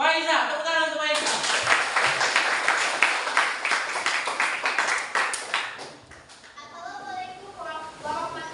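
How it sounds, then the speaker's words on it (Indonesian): A burst of lively clapping from students in a high school classroom, a few seconds of quick, dense claps, with a voice talking before and after it. "tepuk tangan untuk Faiza"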